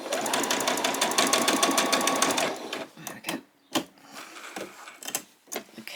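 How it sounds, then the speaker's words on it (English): Sewing machine running a steady, fast back stitch along a doll's skirt for about two seconds, followed by a few soft clicks and handling taps. "I'll just quickly do a back stitch on that other side"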